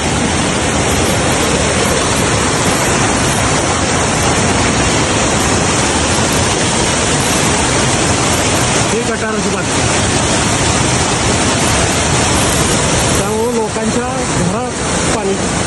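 Continuous loud rush of a flooding urban stream flowing close by, with a voice speaking briefly over it twice toward the end.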